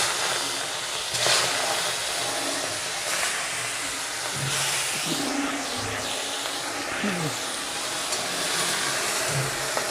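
Prawns drop into hot mustard oil in a kadai and sizzle with a steady, dense hiss, with a few faint knocks and stirring sounds underneath.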